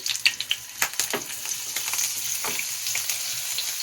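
Paneer pieces frying in hot ghee in a pan, a steady hissing sizzle with crackling pops and a few sharp clicks as pieces are set down, close and alone without talk.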